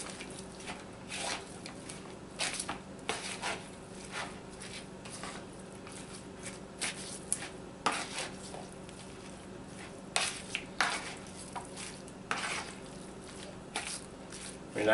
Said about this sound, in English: just a little bit of oil. And we're going to give this a stir.